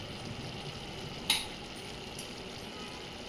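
Spice powders stirred into mutton keema curry in a pot, a soft steady sizzle of simmering food with one brief metallic clink of a spoon against the pot.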